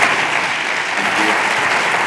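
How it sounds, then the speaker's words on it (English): Dense, even audience clapping fills a conference hall after a tourism panel, steady and moderately loud throughout without voices. "give a big round of applause to our guests and participants"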